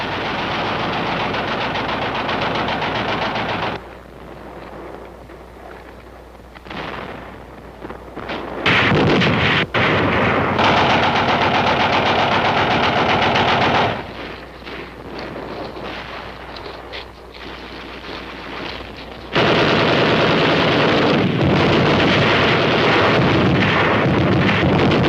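Gunfire in hilly Korean War combat footage comes as long loud stretches of dense, rumbling shooting and blasts, alternating with quieter, muffled gaps and some wind buffeting.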